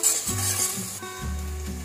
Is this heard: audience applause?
no